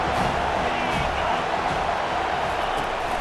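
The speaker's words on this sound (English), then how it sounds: "Listen to this crowd just shaking the girders of this place" A stadium crowd roars in College Football 25 during a Florida versus South Carolina game: a dense, steady wall of cheering noise that holds without a break for several seconds.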